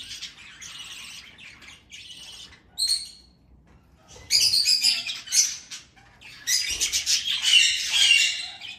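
Pet budgies chirp and squawk in bursts of shrill, busy calls broken by short quiet gaps, close and lively, growing denser and louder in the second half.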